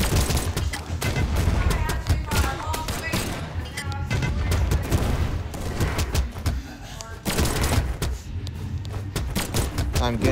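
Brawlhalla gunfire rattles in dense, rapid bursts of shots and thumps almost without pause, loud and busy, with voices mixed into the game noise.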